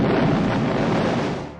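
A big explosion set off by bomber planes in a Vietnam war film booms out as a loud, dense roar that holds for about a second and then starts to fade.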